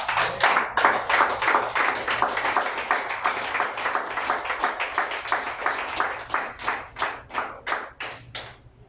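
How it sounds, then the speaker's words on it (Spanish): A church congregation applauds together, dense and loud at first, then settling into steady, rhythmic, evenly spaced claps that carry on for several seconds in a roomy hall. "la iglesia y usted le dé un fuerte aplauso al Señor Jesucristo"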